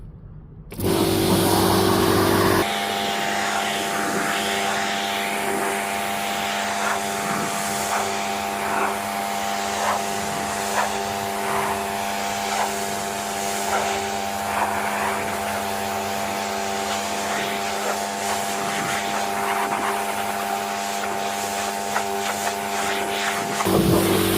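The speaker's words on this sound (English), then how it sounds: "So let's just jet wash it off." A pressure washer rinsing snow foam off a car drones loudly and continuously, its motor whine steady with a hissing jet of water throughout, nearby and without speech.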